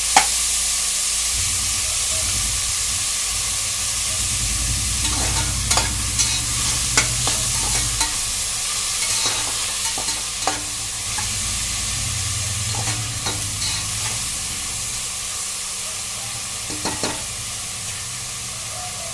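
Broad beans and tomato curry frying in a pan as they are stirred until brown, giving a continuous sizzle broken by repeated scraping strokes of a spoon. The sound is close and carries no speech.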